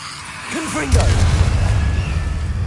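A Confringo fire spell in Hogwarts Legacy bursts once with a near, booming blast, and a whooshing trail and rumble linger after it, mixed with other game effects.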